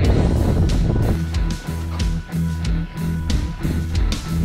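Wind buffeting a microphone outdoors at a station before a hike toward the Brocken in the Harz during an ice storm, a steady loud rumbling roar with gusty surges throughout.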